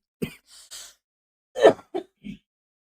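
A few short, sharp coughs break out close by, spaced unevenly, with quiet breathy sounds between them and silence around.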